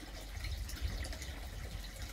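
Running water splashing from a koi pond shower filter, a soft continuous trickle and gush heard alone at low level.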